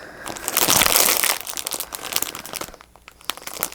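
Printed tissue paper crinkled and handled by hand during journal crafting, making loud, close, continuous rustling and crumpling that swells early and then settles into softer, irregular crackles.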